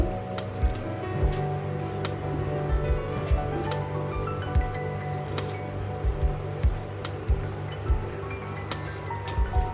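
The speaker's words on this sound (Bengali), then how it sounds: "এভাবে আমি লিচুগুলি ছাড়িয়ে নিচ্ছি খোসা ছাড়িয়ে নিচ্ছি লিচু" Lychees being peeled by hand in a home kitchen, giving soft, wet squishing and crackling skin sounds, close and quiet, repeating irregularly over a low steady background hum.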